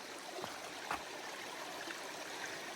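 Clear stream water flowing steadily along a hiking trail, a soft continuous trickle and gurgle at close range with no voices.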